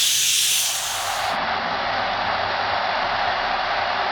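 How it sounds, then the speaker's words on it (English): Steam hisses from a pressure cooker of cooked chickpeas as it depressurizes: a loud, steady, airy rush that stays even and unbroken throughout, with no voices. "Once you have depressurized your pressure cooker, it's time to take a look inside"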